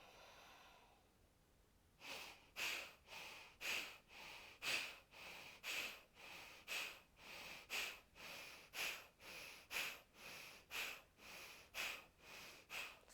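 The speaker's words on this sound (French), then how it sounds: "Respiration dynamique ou profonde." Deep rhythmic breathing during a yoga breathing exercise: after a quiet start, a steady series of about twenty quick, forceful breaths in and out, close and fairly soft, with no talking.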